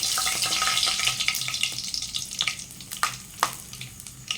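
Whole spices and bay leaf frying in a hot pan for chicken curry, a bright crackling sizzle that fades and breaks into scattered pops and spatters, close and fairly loud.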